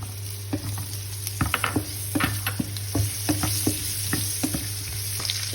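Lemongrass and ginger fry in a pan for balbacua, a constant sizzle under a low hum, broken by irregular scrapes and clacks from stirring.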